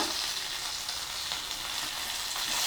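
Coriander and mint sprigs fry lightly in a pan with cloves and cardamom for a tindora masala curry, giving a steady, even sizzle that holds at a moderate level throughout with no voices.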